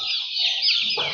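A rooster gives a short, close, raspy clucking call, a single slightly wavering burst lasting about a second.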